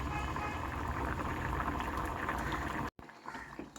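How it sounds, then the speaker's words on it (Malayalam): Ivy gourd curry in coconut milk boils in a pot with a dense, continuous bubbling that stops abruptly near the end, followed by quieter clinks. "ഇനി അത് തിളച്ച് ആ തേങ്ങാപ്പാലിൽ കിടന്ന് ഇത് നന്നായിട്ട് വേവണം"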